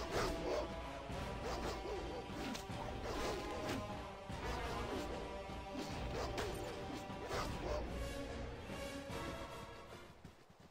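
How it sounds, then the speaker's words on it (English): Dogs bark and snarl in a fight in Baldur's Gate, with continuous game combat noise of hits, crashes and whooshes throughout, fairly busy and mid-distance. "Dogs!"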